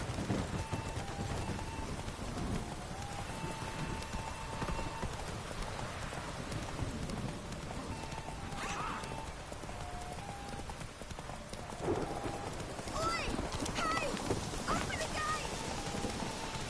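A horse gallops in The Witcher 3: Wild Hunt, its hooves a steady, fast clip-clop under a dense bed of rain and wind, with a voice speaking briefly.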